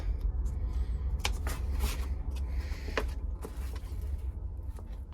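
Scissors snip through Schluter Kerdi shower membrane during a shower installation, a series of crisp, close snipping and crinkling sounds in uneven bursts, with quiet rustling of the sheet between cuts.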